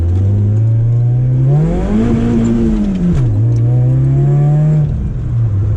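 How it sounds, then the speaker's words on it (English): A boosted Toyota AE86 engine revs hard in first gear, holding loud and close against the rev limiter with a brief dip and rise partway through before sitting high again. "A little sideways action first gear, rev limiter."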